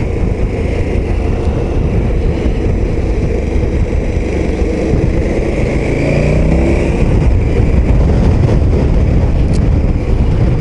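A KTM 1290 Super Adventure S motorcycle engine runs at low revs around 2000 rpm while riding, a steady loud rumble with wind noise and a slight rise in pitch midway.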